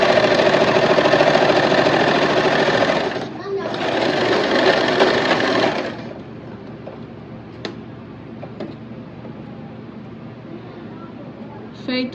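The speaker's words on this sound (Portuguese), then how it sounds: "aqui é passar essa costura sempre em cima da overlock" An overlock sewing machine stitches a seam at speed in two close, loud bursts with a brief pause between, then stops, leaving quiet handling clicks and faint room noise.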